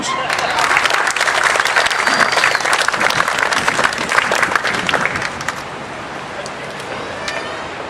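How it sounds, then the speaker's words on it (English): An outdoor crowd at a political bus tour stop applauding, dense clapping that holds steady for several seconds and then fades to scattered claps and wind noise. "let's just have a nice round of applause"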